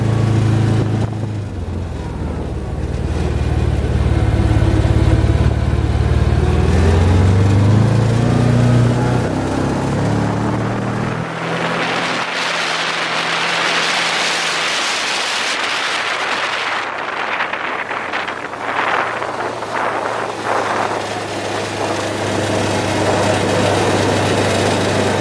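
A 2016 Can-Am Commander XT 1000 side-by-side drives along, its engine droning steadily and loudly throughout, with low rumble early on and rising whine and wind noise midway.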